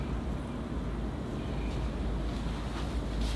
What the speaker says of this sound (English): You can hear the wind howling away outside.